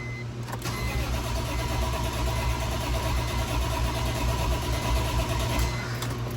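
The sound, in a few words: BMW E46 M3 wagon engine starting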